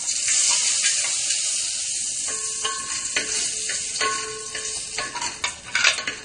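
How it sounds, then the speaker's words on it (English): Black cardamom, cinnamon and cloves fry in ghee for biryani, a bright steady sizzle with scattered scraping and clinking of a spoon against the pan, growing choppier toward the end, no talking. "Just fry it for some time."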